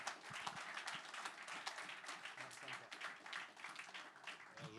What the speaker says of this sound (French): Je vous demande de l'applaudir et de l'accueillir très chaleureusement